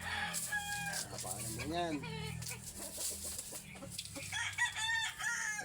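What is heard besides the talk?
hen cackling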